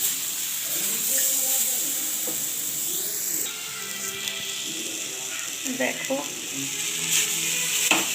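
Food for a chutney fries in a pan with a steady, loud sizzle and hiss, with stirring scrapes and a voice speaking faintly over it.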